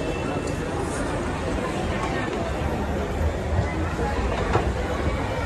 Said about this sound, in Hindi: हाटकोपर मेट्रो।